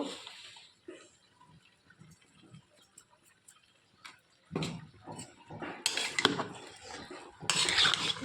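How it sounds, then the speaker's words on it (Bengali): Gobindobhog rice pulao with coconut milk is stirred in a pot, quiet scattered clinks and taps at first, then louder bursts of scraping and utensil clatter in the second half. "এবার এটা একটু নাড়িয়ে চাড়িয়ে দেবো।"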